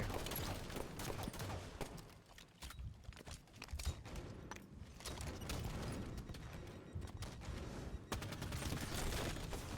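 A Brute plasma rifle fires in a fast, sustained volley during a multiplayer shooter match, with rapid crackling shots that barely pause, loud and close amid other battle noise.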